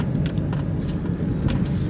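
A Suzuki Ignis car rolls past on a city street, a steady low road rumble with tire noise holding through the whole stretch, with faint brief clicks and rattles on top.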